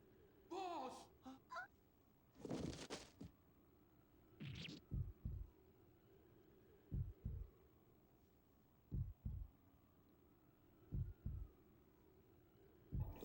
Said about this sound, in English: I like the heartbeat sound effect they put in here to really make the moment super dramatic